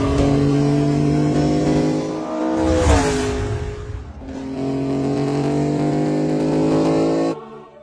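A Ferrari race car on a test lap roars at high revs, the engine pitch climbing and dipping as it shifts, swelling loud as it passes close, then holding a sustained howl before cutting off abruptly.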